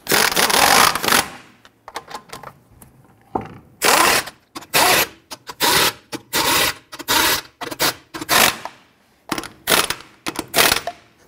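Lug nuts on a 2005-2021 Nissan Frontier wheel being snugged down with a ratcheting tool, repeated bursts of close, loud ratchet clicking and rubbing separated by short pauses, with no talk.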